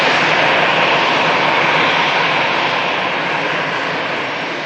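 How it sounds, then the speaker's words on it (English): An EasyJet Airbus A320 comes in to land at Manchester Airport, its jet engines a loud, continuous broadband roar that holds steady and then fades slightly toward the end, with no voices. "EasyJet Airbus A320 coming in"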